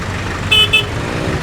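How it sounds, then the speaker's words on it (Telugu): A travel bus horn gives two short honks in quick succession over a constant engine and road rumble, the bus stopped mid-road. "హారన్ కొట్టు ఒకసారి"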